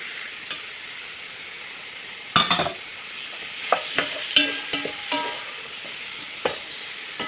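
Chicken pieces frying in a pan with tomato and spice powder, a steady sizzle with sharp scraping stirs and clanks of a utensil at intervals, close and fairly loud, no talking.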